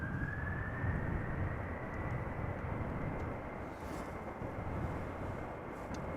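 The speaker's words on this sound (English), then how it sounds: "I hear spooling up of an A330 from KLM going to Houston" A KLM Airbus A330 spools up its engines for departure at Amsterdam Schiphol Airport, a steady broad roar with a faintly rising whine, heard at a distance and holding level throughout.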